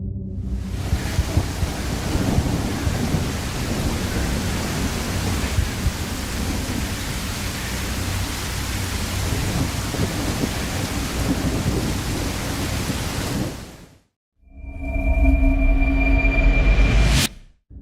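Acid rain pours with heavy rumbling thunder in the A Silent Desolation video game, a loud, dense, continuous roar for most of the clip before it cuts out briefly and resumes.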